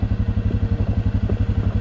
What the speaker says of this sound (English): I guess another example of the engine braking.